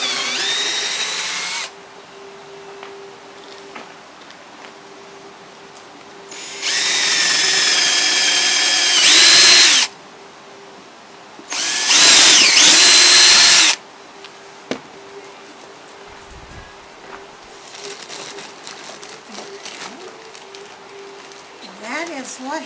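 A power drill drives bolts into an old picnic table under repair outdoors, loud whirring bursts of a few seconds each separated by quieter stretches of low background and a steady hum.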